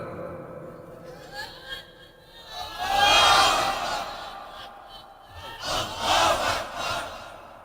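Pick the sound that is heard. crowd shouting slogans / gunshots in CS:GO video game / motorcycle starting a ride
crowd shouting slogans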